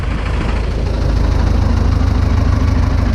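Loud, close diesel tractor with a faulty drive idling while parked on the handbrake in winter, with a steady low rumble and a rapid, even knocking pulse throughout.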